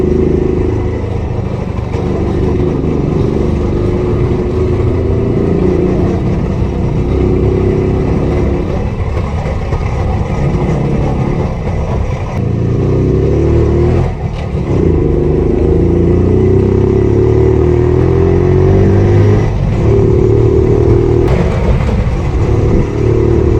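A Rajdoot 175 motorcycle engine being cold started during restoration, running with a loud, continuous throbbing and clattering idle with a few blips of revving, close up and without talk.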